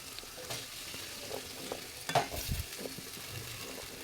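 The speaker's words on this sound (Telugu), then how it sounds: "ఇప్పుడు ఇందులో నేను ఆలుగడ్డ ముక్కలు వేస్తున్నాను" Potato pieces fry in oil in a pan for aloo fry, with a steady close sizzle and occasional spatula scrapes and knocks as they are stirred.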